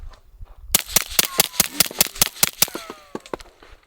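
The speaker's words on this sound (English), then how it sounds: "now Stealth Arms Platypus with the full length Mojave 9. Same thing, but subsonic." Suppressed Stealth Arms Platypus pistol firing subsonic 9mm through a full-length Mojave 9 suppressor: about fifteen rapid, evenly spaced muffled cracks in quick succession, close and loud, with faint metallic clatter trailing after the string.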